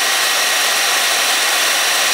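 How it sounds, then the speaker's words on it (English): A hair dryer powered by an off-grid system blowing steadily at close range, a loud continuous airy whoosh with no variation and no voices. "Hair dryer is still running."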